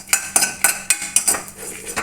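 Green chillies roast in a pan as a spoon stirs them, giving sharp metallic clinks and scrapes in an uneven rhythm, about six quick strikes over two seconds, close and fairly loud.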